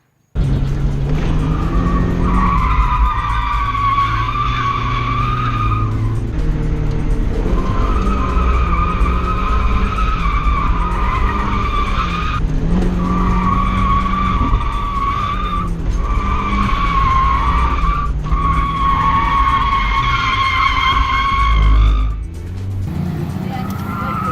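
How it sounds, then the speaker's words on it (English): Mazda Miata drifting at a drift event on worn tires, with long, loud tire squeals rising and falling over a continuous engine roar across several slides, ending in a brief quieter moment. "I'll play some clips of me drifting, a little sneak peek for you guys"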